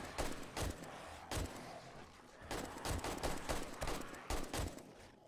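Gunfire in the 7 Days to Die survival game, shots fired from a platform at attackers below: repeated bursts of sharp, loud reports in irregular clusters over a steady noisy background.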